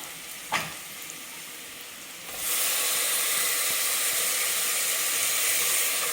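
Chopped tomatoes drop into hot oil with ginger-garlic paste for chicken biryani. After a short clink, the frying jumps to a loud, dense, continuous sizzle that stays steady to the end.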